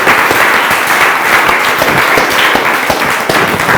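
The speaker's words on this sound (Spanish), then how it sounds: "Denle un aplauso a Dios." A church congregation applauds together, a dense, steady wash of clapping that stays loud and even throughout with no talk over it.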